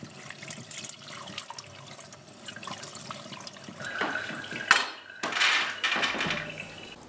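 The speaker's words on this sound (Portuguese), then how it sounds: "E lavamos as sementes com água." Pumpkin seeds are rinsed under running water in a kitchen sink, a soft tap stream with splashing and a few louder gushes and clatters toward the end.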